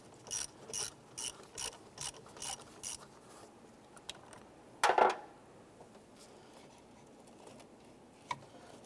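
A hand ratchet loosens the positive battery terminal on a Ford Explorer, giving six or seven evenly spaced clicking strokes up close, then a louder clunk and a faint tick, with no talk.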